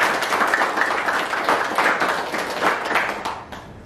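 Participants in a correctional counseling session applauding, a dense, close burst of clapping that stays loud throughout and thins out in the final moment.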